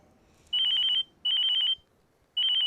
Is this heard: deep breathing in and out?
no